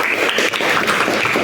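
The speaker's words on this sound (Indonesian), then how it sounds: "Jadi tepuk tangan dulu dong." Classroom applause from students after a group presentation, a dense steady clapping that fills the whole stretch at moderate loudness with no talk over it.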